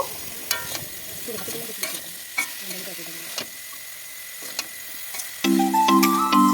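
Chopped bottle gourd stirred into a fried spice paste in a pan, with a low sizzle and a string of sharp spatula knocks and scrapes, close by, as a musical tone enters near the end.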